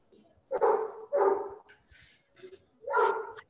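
A dog barks in repeated bursts of three or four, moderately close and loud, during a meeting in a room, with faint background sounds between the barks.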